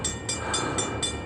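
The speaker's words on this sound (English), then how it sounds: "You get all the sights and sounds of the railway here" A train rumbles past on a main railway line, a steady broadband roar with rhythmic bright clacks repeating about every quarter second, close and fairly loud, no voices.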